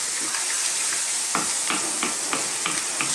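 Tinned plum tomatoes and tomato puree are stirred in a frying pan, a run of close, regular scraping strokes about every third of a second over a low, steady sizzle.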